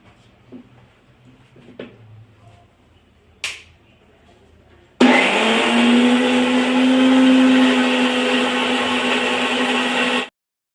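After a few quiet clicks and handling knocks, an electric mixer grinder roars to life grinding moth beans for uttapam, a loud steady whirring motor that runs for several seconds, then cuts off abruptly.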